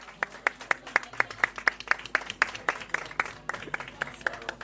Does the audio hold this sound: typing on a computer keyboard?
no